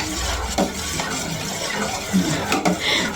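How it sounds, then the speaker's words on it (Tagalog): A utensil stirs a gulaman mixture with pineapple in a cooking pot, making a few light knocks and scraping clinks against the metal over a low liquid swish, close by and without talk. "Haluin po muna natin."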